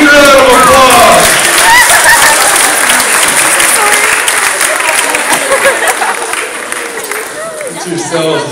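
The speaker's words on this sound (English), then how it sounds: "Give him a huge round of applause." Audience at a stage hypnotist show breaks into a big round of applause, loud and full from the start, mixed with crowd cheering and chatter, then slowly thinning toward the end.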